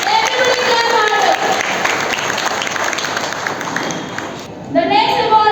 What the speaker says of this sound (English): Everybody clap harder.